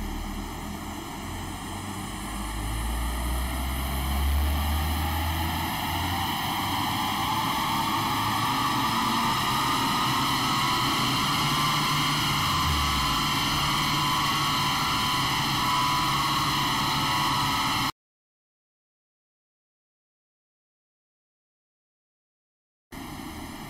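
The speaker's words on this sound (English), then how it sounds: "This is the dyno before run." An Audi Q3 2.0 TDI runs loudly on a chassis dyno, a steady roar with a whine that climbs partway through, then stops abruptly before a brief return at the end.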